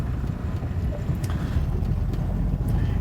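A Yamaha-powered boat with a Helm Master EX system shifts into gear and pivots on the water in Miami, its steady engine rumble mixed with constant wind buffeting the microphone, with no talk.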